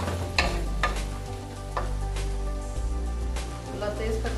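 Keema masala with softened tomatoes frying in a pan, a steady close sizzle punctuated by scraping stirs of a spoon, with someone talking over it.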